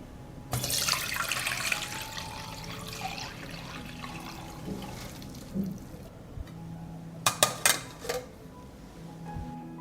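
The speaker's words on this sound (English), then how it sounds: "The nettle tea has cooled, and I will strain it." Cooled nettle tea being strained, with liquid pouring and splashing steadily for several seconds, then fading to soft drips and a few sharp clinks of a container near the end.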